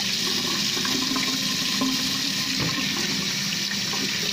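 Water from a tap pours and splashes steadily as a face is wetted before washing, a loud continuous rush close by with no talking.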